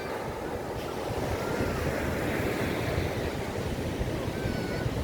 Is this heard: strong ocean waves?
yes